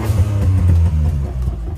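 Volkswagen Up TSI Stage 2 engine revved gently while warming up, a short loud burst of mid-pitched engine tone that rises and falls over under two seconds.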